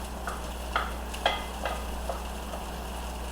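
Fried rice with bacon sizzles in a pan under a steady frying hiss, while a utensil stirs and scrapes in several distinct strokes over a low background hum.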